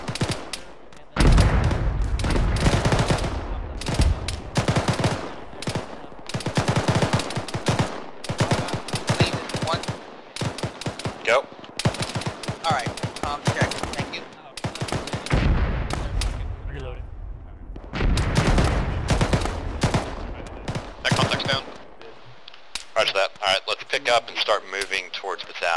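Gunfire in the Arma combat game with the ShackTac group, long bursts of rapid machine-gun and rifle fire coming in loud waves with short gaps, mixed with radio-style voice chatter between players.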